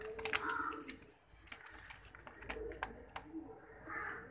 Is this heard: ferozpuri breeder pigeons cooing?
yes